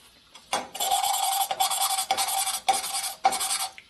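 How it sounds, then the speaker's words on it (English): Harley 1980 Sportster 74ci stroker cylinder head valve being lapped with lapping compound: close gritty rasping strokes in repeated bursts with short pauses between, steady back-and-forth rhythm. "You can tell when you're done lapping by how it sounds and how it feels."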